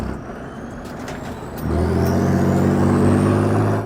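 A Swedish PBV 302 armoured personnel carrier driving, its heavy engine rising into a loud, steady roar with a mechanical whine, close by and without speech.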